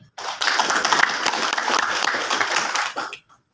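A room of delegates at a national journalists' association congress bursts into applause, a dense burst of many hands clapping that starts abruptly, holds steady for about three seconds and then stops.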